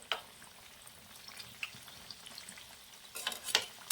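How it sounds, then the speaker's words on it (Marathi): Lavang latika pastries deep-frying in hot oil, a faint, steady bubbling sizzle with scattered crackles and a few sharper pops toward the end. "आपल्याला आहे ना पूर्ण असं क्रिस्पी होईपर्यंत हे तळून घ्यायचंय"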